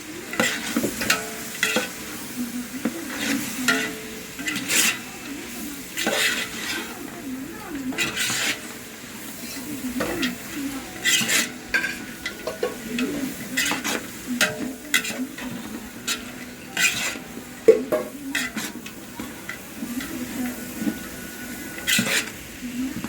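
Spice powder stirred and frying in a pan for sambar, scraping and sizzling continuously at close range, with occasional clinks of the spoon against the metal.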